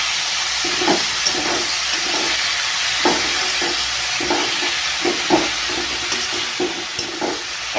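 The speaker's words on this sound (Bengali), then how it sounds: "এখন আমি শাকটা দিয়ে দিচ্ছি ভালো করে নারিয়ে চালিয়ে নেবে" Leafy greens hit a hot pan and are stirred, giving a loud steady sizzle and hiss with repeated scraping strokes throughout, and no voices.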